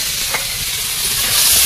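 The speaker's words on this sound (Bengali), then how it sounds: "চুনো মাছগুলো দিয়ে ভেজে নেবো।" Small fish sizzle loudly as they fry in hot oil in a wok, a steady dense crackling hiss that swells slightly toward the end, with no voices.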